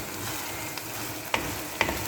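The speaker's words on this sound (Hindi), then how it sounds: "ये कीमा कढ़ाई में डाला है" Minced meat sizzles steadily as it fries in ghee in a kadhai, with a few sharp scraping clicks of a spoon stirring against the pan, close up and with no talking.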